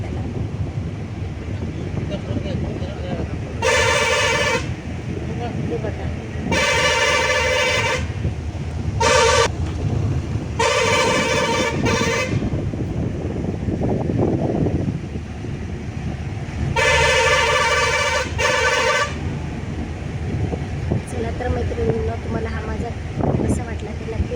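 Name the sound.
vehicle horns honking on road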